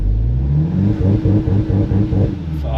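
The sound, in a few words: Volkswagen Jetta GLI launch control acceleration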